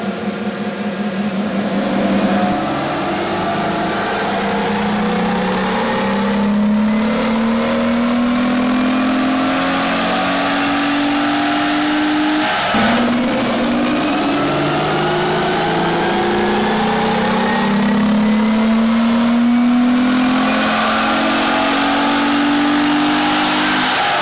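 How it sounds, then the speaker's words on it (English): A Toyota 4Runner engine revs hard on a chassis dyno after an ECU flash, climbing steadily through two long pulls with a brief lift in between. It is loud and close, with no talk over it. "now we can run the after test and see how much power it puts down on the dyno"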